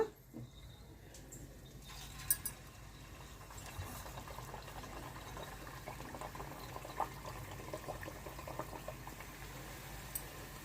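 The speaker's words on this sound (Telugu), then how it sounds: "ఆయిల్ వేడి అవ్విందండి ఇప్పుడు ఈ చెక్కలను వేసేసుకుందాము" Chana dal chekkalu fry in hot oil with a steady, faint bubbling sizzle and scattered crackles after an initial splash, continuing evenly throughout.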